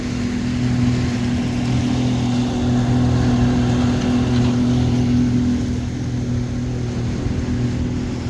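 Fishing boat engine on Southampton Water running at a steady loud drone, holding a constant pitch for most of the stretch and easing slightly toward the end, with no talking.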